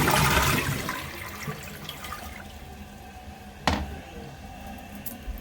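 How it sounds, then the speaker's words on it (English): A power-flush toilet in a home plumbing repair, its flush rushing loudest at the start and settling into a steady water hiss and refill, with a sharp clunk partway through. "seems like it flushed to me."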